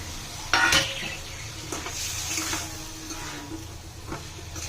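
Spices and raw tomatoes fry in oil in a pan for a mushroom-leaf (radish greens) and chicken curry, giving a steady sizzle with a few sharp stirring and clattering knocks against the pan, no voices.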